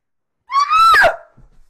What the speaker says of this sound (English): jumps up and runs screaming from the room and exits up the stairs